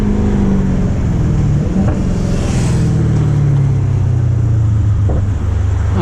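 A Dodge Charger Scat Pack heard from inside while driving, a loud continuous low engine rumble with road drone, holding steady, with no talk.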